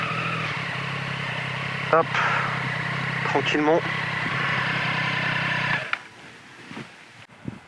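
A derestricted Triumph Street Triple S 660 motorcycle hums along at a steady engine drone, with a rider's voice speaking briefly over it, then the engine note drops away toward the end.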